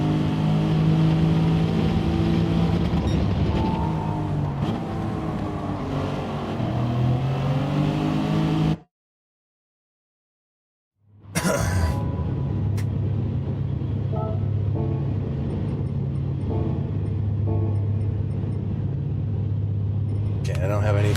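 Honda NSX Group 2 race car engine in Gran Turismo 7, racing at Catalunya: a loud, sustained engine drone with shifting pitch, cutting to silence for a couple of seconds midway before resuming, with speech over it.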